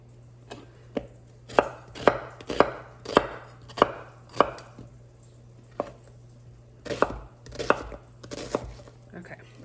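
An onion chopped with a knife on a cutting board, a run of crisp, evenly spaced chops, a short pause, then a few more, close and clear with a faint steady hum beneath.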